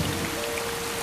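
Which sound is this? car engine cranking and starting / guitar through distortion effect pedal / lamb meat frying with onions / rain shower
rain shower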